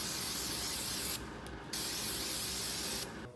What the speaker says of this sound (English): you're gonna brake clean that baby off.